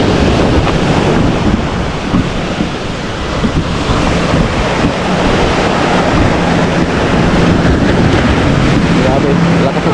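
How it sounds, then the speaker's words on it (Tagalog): Strong ocean waves crash and roar continuously while heavy wind buffets the microphone, producing a loud, close, unbroken wash of surf and gusting noise. "Grabe, lakas ng alon."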